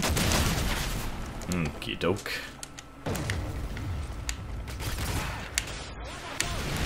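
Gunfire from the video game Modern Warfare 3 multiplayer, with repeated rapid shots crackling in bursts over a busy battlefield mix, while a player talks briefly over the action.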